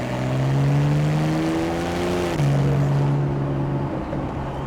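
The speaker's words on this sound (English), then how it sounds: "you could really appreciate and enjoy the beautiful sound out of this 3-litre Boxer 6 engine" A Porsche 911 Carrera 991.1 with a 3-litre flat-six Boxer engine revs loudly up through the range, drops back briefly, then climbs and holds a steady high drone, close by.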